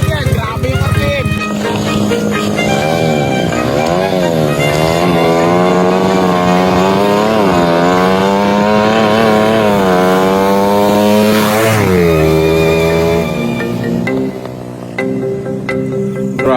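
A Euro 150 motorcycle engine screams at high RPM, its buzzing whine climbing and wavering in pitch through repeated throttle blips before dropping back, loud and close for the whole stretch.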